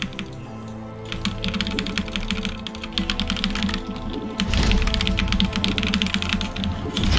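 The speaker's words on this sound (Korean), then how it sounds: "오랜만에 레오폴드 적축" Steady typing on a Leopold mechanical keyboard with red switches, a dense run of close, soft clacking keystrokes that grows busier and louder toward the end.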